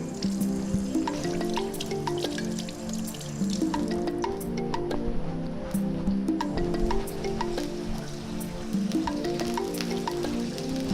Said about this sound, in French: Donc ici, je vais mettre l'huile à chauffer.